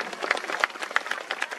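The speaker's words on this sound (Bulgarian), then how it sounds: "Искам да чуя вашите аплодисменти" Audience applause at an orchestra celebration in Chirpan, a dense, steady patter of many hands clapping close by for the full short stretch, with no voices over it.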